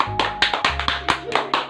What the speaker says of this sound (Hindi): जेनिस के लिए तालियां।